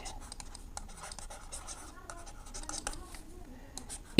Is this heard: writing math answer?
yes